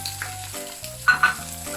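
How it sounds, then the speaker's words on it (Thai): Rice is stir-fried in a large batch for Thai restaurant-style shrimp fried rice with Hong Kong kale, giving a steady close sizzle broken by a couple of sharp scraping stir strokes, with no talk. "เอาข้าวลงไปผัดเลยค่ะนี่ผัดชามใหญ่นะคะเยอะ"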